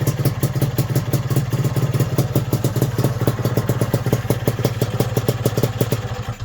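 Tuned Lambretta GP Imola 198 scooter engine idling steadily close by, a loud, even two-stroke putter with rapid regular pulses and a faint metallic clatter throughout, no voices.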